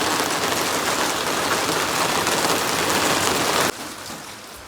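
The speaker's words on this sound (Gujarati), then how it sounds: "સવારમાં એવો વરસાદ ચાલુ થઈ ગયો" Morning rain pours down hard and close, a loud, even rush of drops on surfaces that cuts off abruptly near the end, leaving a quieter hiss.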